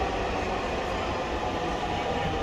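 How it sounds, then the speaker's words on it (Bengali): A northbound metro train arriving at a Dhaka station bound for Uttara, a broad steady rumble and rushing roar that fills the whole clip at a constant level, with no clear voices. "ট্রেন চলে এসেছে উত্তরা উত্তরগামী যে ট্রেনটি"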